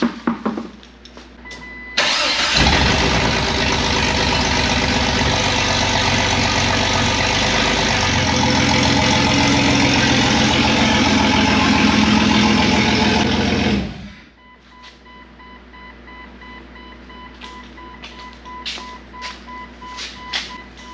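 A Jeep XJ engine runs loud and close for about twelve seconds, a steady rumbling drone that then cuts off, leaving quieter clicks and handling noises.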